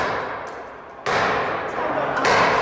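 Rioters batter a door during the attack on the US Capitol. Heavy, hard thuds of the blows ring out over a dense roar of crowd noise and voices.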